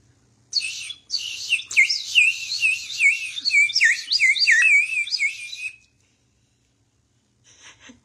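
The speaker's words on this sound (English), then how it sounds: "when you blow it, if it's got water in it, it'll sound like a bird" A water bird whistle warbles in rapid, bubbly trilling chirps for several seconds, then stops; a brief faint chirp follows after a pause.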